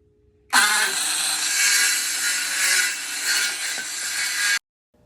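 Wooden legs are cut off a glued-up wood workpiece in one loud, close, continuous rasping cut of about four seconds that starts and stops abruptly, with no talk.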